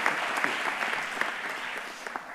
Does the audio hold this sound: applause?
yes